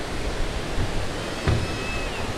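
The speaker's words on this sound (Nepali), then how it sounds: "यति ठुलो नदी छ त।" A large river flows with a broad, continuous rushing wash of water, close and fairly loud, with a brief surge of splashing midway and no voices.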